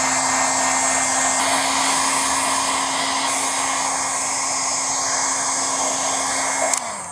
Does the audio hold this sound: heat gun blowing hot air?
yes